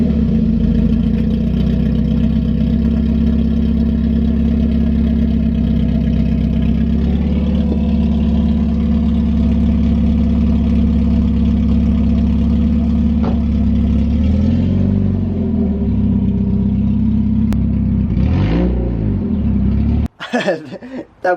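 A Mazda Miata engine runs with new exhaust headers and an open downpipe that ends three inches short of the catalytic converter, giving a loud, steady, deep idle rumble with slight shifts in pitch and a short rev near the end.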